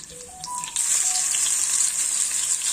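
Masala-coated navara fish with a slit green chili fries in a small pan, a loud, close, continuous hissing sizzle that swells suddenly after a few faint tones at the start.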